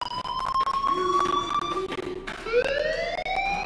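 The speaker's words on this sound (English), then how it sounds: "Hey, do you hear that fire alarm?" A fire alarm rings in the video game Life Is Strange, a loud, continuous wailing tone that sweeps up and down in pitch and carries on steadily throughout with no voices.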